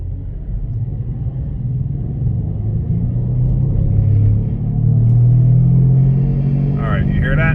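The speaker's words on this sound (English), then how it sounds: "let's see if the wheel bearing's actually making noise" A car with a bad right-side wheel bearing rolls along a quiet dead-end residential street, a steady low rumbling drone that swells and grows louder midway, with faint talk near the end.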